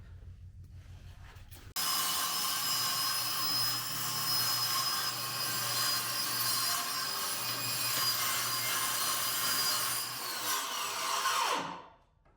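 A power saw cuts through sheet metal for the trunk floor panel of a street car, running as a loud, steady whine for about ten seconds before spinning down, with no talking.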